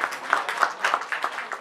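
Thin, uneven applause from a modest audience at the opening of a journalism festival in a studio: separate claps pop out in a loose, fairly quiet patter.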